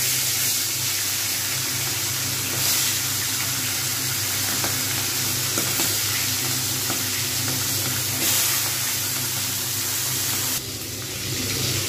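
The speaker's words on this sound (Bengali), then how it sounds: "আস্তে আস্তে করে আমি এর মধ্যে মাছগুলো ছেড়ে দেবো" Hilsa fish pieces fry in hot oil in a wok, giving a loud, continuous sizzle with hissing and popping. The sound runs unbroken with no talking and eases slightly at the very end.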